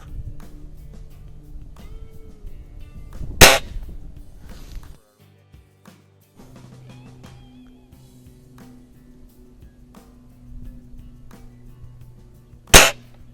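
A Weihrauch HW50S spring air rifle fires heavy .177 pellets, producing two sharp, loud cracks several seconds apart over quiet handling noise and a low hum.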